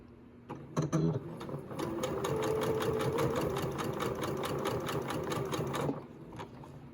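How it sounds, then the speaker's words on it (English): A sewing machine with a gathering foot stitches fabric in a fast, even mechanical chatter for about five seconds, starting with a couple of quick jolts and stopping abruptly, close and clear. "I'm just going to line the edge of the foot with the raw edge of the fabric and begin sewing"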